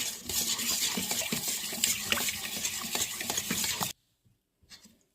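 A spoon clinks and scrapes steadily around a bowl, stirring a marinade, with close, continuous wet swishing that stops abruptly, followed by a faint tap.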